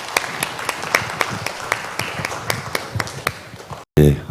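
Audience clapping to welcome panelists onto the stage at a Seoul bio and medical international conference, a run of distinct claps that thins out before a brief gap and a final louder sound.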